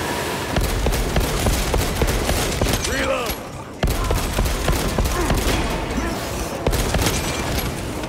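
A fusil weapon firing in the Warhammer 40K Space Marine 2 video game, sustained loud bursts of gunfire and impacts that continue almost without a break, with a brief pause midway and in-game voices faintly underneath.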